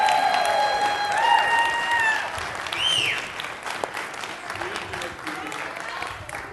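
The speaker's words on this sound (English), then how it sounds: "clap for them" Congregation applause at a lively church service, a sustained roar of clapping and cheering with whistles and high shouts, loudest early and easing a little later, with voices talking over it.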